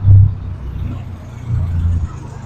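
Suzuki DA63 4x4 kei truck, lifted four inches and fitted with a stainless bumper, idles with a low, steady engine rumble that swells briefly near the start and again toward the end, close by.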